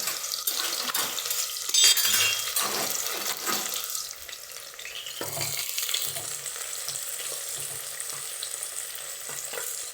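Onion and green chili hit a hot pan for chicken biryani, setting off a loud, steady sizzle and hiss with some stirring clatter, close up for the full ten seconds, with no voices.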